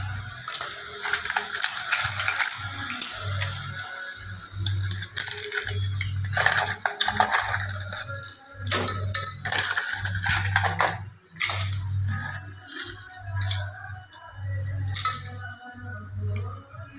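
Clams in their shells tumbling into a cooking pan of fried tomato for a Goan Konkani clam curry, giving repeated close clattering and clinking shell knocks in irregular bursts, with no talk.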